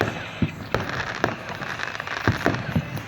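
Fireworks crackle and pop in scattered bursts on bonfire night, heard at a distance over a steady outdoor background hiss.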